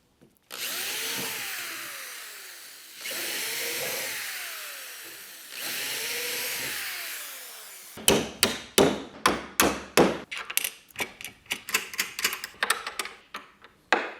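A power drill driving screws into wood whirs in three rising bursts, followed by a rapid series of sharp, irregular knocks and clicks, close by with no talking.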